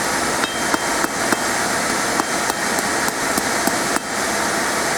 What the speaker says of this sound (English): I'm doing is just going to get my hammer over this corner of the anvil